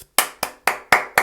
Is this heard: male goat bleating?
no